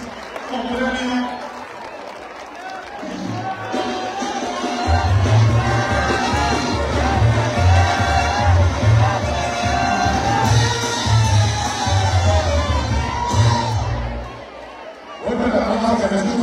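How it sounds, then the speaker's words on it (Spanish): Carnival crowd at a town plaza festival cheering, whooping and applauding a winning troupe, a sustained roar of voices and clapping with a rhythmic low pulse underneath, and talk over the top. "Fuerte el aplauso para recibir al grupo de La Tuercada."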